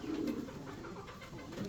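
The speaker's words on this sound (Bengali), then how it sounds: "দেখেন আজকেই ডিম দেবে কবুতরটা" A fancy pigeon coos softly and steadily at close range, a low rolling call with no other sounds around it.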